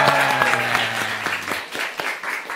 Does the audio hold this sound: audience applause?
yes